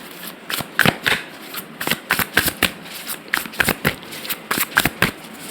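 Tarot cards being shuffled by hand in a steady series of crisp riffling, slapping bursts, close and fairly loud with brief gaps between shuffles.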